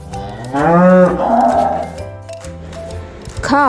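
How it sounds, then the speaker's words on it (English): A cow gives one long, loud, close moo that fades into a lower drawn-out groan. "C-O-W, cow."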